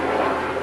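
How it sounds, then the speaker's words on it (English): Steady rotor and engine drone of a helicopter flying overhead, loud and continuous through the short moment, with no speech. "Sorry about the helicopter,"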